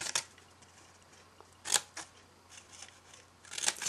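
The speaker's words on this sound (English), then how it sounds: "You're going to take a pair of scissors" A pair of scissors snipping scored paper for a box, a few crisp close cuts separated by pauses over a faint steady hum.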